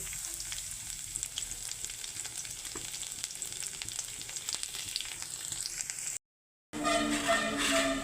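Chopped garlic sizzles steadily in hot oil in a wok after black cumin seeds, with light stirring, a brief gap of silence, then a louder burst of frying.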